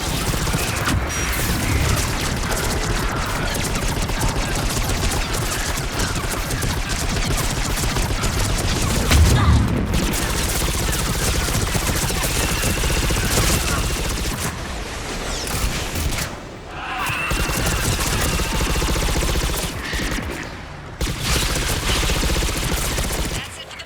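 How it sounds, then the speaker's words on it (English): Air support in Mass Effect 3 unleashes missiles and gunfire in a loud, sustained barrage of rumbling blasts and rapid shots that carries on almost without pause and drops briefly twice. "That's it for the missiles. Switching to the gun."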